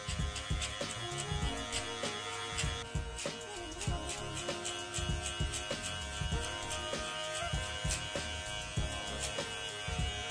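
An electric beard trimmer fitted with a clip guard buzzes steadily up close as it cuts through a beard at home, the hum wavering slightly as it moves, with no talking.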